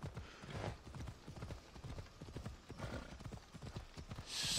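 Steady clip-clop of horse hooves trotting at a quick even rhythm in Assassin's Creed Odyssey on PS4, fairly close, with a brief burst of noise at the end.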